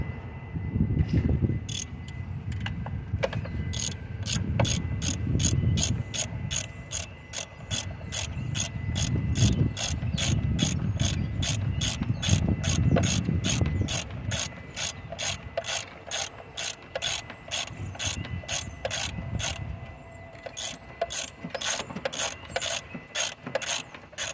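A hand ratchet tightens valve cover bolts on a 2009 Chrysler Town and Country, its rapid metallic clicks coming in long, close, even bursts with short pauses between them.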